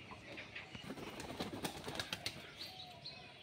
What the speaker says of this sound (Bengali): তো পায়রাগুলো সব আসছে